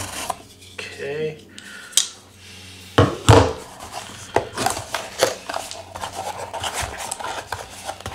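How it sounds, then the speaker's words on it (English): A knife slices and scrapes through the plastic packaging of a battery pack during an unboxing, with sharp cutting strokes, crinkles and rustling scrapes in quick irregular bursts, close up. "Looks like we're gonna need the knife here."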